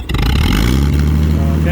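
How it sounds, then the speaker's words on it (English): Old Massey Harris 102 tractor engine on its first run in ten years, revving loudly and close as the throttle opens, a rough, steady roar that starts abruptly and holds for under two seconds. "I'll give it a bit more throttle."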